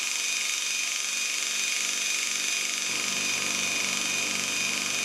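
A lathe tool bit being lightly ground on a bench grinder to form its side clearance angle: a steady, high, whining grind that holds without a break and stays fairly loud throughout.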